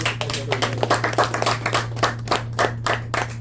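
A classroom gives a round of applause: a small group claps steadily and close by for a few seconds, with brisk, slightly uneven hand claps and no talking.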